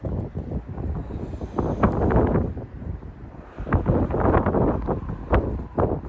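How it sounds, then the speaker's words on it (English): Strong wind buffets a microphone outdoors on big rocks by the sea, loud irregular gusts with rumbling low roar and surging bursts throughout, no voices. "The first thing that comes to mind is how strong the wind is"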